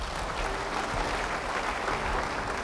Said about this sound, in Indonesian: Yang percaya beri tepuk tangan.